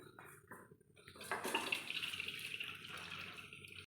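Water being drained off boiled papaya in a kitchen, a faint start giving way to a pouring, splashing gush and trickle that continues steadily to the end.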